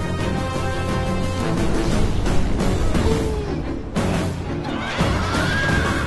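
Horses whinny amid the noisy clash of a large ancient battle between Persians and Macedonians in a video game, shrill neighs rising over a dense, loud roar of fighting.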